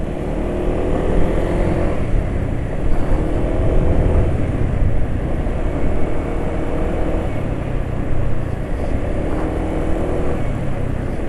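A car engine on Pennzoil oil running rough after a short drive, a steady loud rumbling drone with a coarse, uneven texture and slight fluctuations, no talking.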